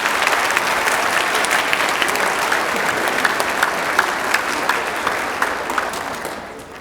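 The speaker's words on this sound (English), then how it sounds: "Let's have one more round of applause for all of the students" A school auditorium audience applauds middle-school band students at a winter band concert, a dense, sustained roar of many hands clapping at steady loudness for several seconds, with no speech over it.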